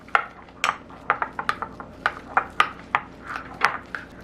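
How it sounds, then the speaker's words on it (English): A spoon mixes sour cream into farmer's cheese in a bowl, with a quick, uneven run of about fifteen close clinks and taps against the bowl's side. "I'm mixing in enough sour cream into the farmer's cheese to make the farmer's cheese more"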